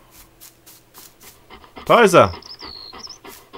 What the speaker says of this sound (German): Sie bellen.